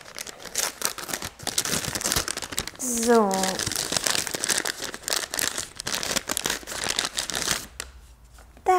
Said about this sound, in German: Na, jetzt geht die Tüte hier nie auf.